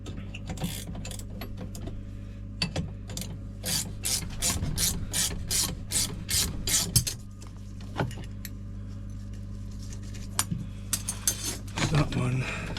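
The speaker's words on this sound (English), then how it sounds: "Silver spanner." A ratchet spanner clicks in quick rhythmic bursts while it works on a Honda Civic front spring, with close metallic rasping and clinks and a steady low hum behind.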